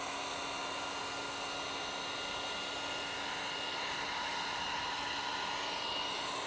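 A heat gun blows hot air to relax vinyl wrap film on a Tesla Model 3 Performance bumper, a steady loud whooshing hiss with a faint tone and no pauses.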